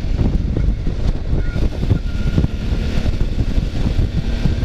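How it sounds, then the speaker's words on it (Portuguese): Strong wind roaring and buffeting the microphone while riding a Suzuki V-Strom motorcycle, a loud continuous low rumble with no letup. "Muito punk a ventania aqui."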